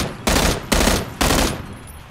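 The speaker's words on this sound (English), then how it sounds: "I hate and dislike the burst fire." Three loud, close bursts of automatic gunfire from a burst-fire weapon in the battle royale game PUBG, each lasting under half a second, evenly spaced with short gaps and a fading tail after the last.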